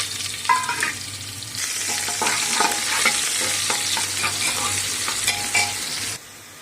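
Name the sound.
cumin seeds and chopped onion frying in hot oil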